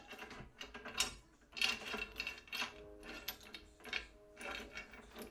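A heavy-duty stainless steel C-stand pole is slotted into its base and locked in place, giving a short run of close, sharp metallic clicks and ratcheting knocks in a quiet room.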